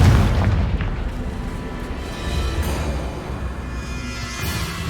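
A Confringo fire spell blast in Hogwarts Legacy, heard as a loud booming explosion up front that rolls off into a sustained low rumble with smaller bursts over about five seconds.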